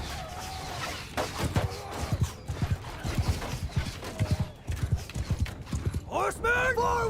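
Cavalry hooves charging in the Mount & Blade 2 Bannerlord video game, a rapid, loud clip-clop of many galloping horses with a whinny near the end, mixed with battle noise.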